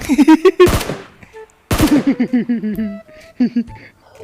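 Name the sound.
gunfire shooting car tires in video game PUBG Mobile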